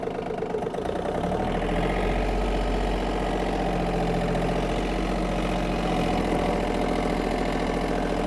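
A Yanmar F-200 mini tractor engine runs continuously and loudly while driving, a steady low rumble with a knocking chug that deepens slightly as it moves along.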